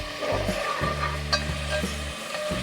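Garlic paste fries in about half a cup of oil for restaurant-style beef paya, a continuous close sizzle broken by soft stirring scrapes.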